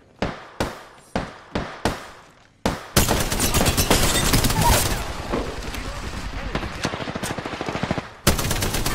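Gunfire in the video game Apex Legends: several spaced single shots, then a loud sustained burst of rapid automatic fire lasting several seconds, close and dominant, ending with another sharp burst.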